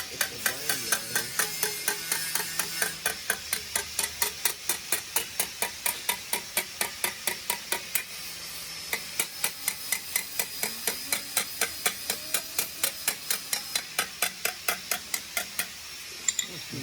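Sheet metal for a drag car body is shaped with a hand hammer, a long run of rapid, evenly spaced ringing blows close by, with brief pauses between bursts.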